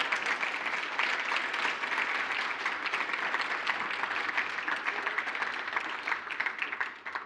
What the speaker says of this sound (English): A round of applause for Ralph.